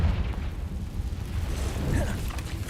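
Confringo fire-blast spell from Hogwarts Legacy bursting in a cave, a deep rumbling boom that swells and lingers, with a small rising whoosh near the end under steady low game ambience.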